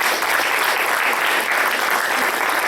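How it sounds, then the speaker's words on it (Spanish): A church congregation applauds during a Sunday sermon, a dense, loud, even wash of many hands clapping together for the whole few seconds. "Vamos a darle un fuerte aplauso a Dios por esto."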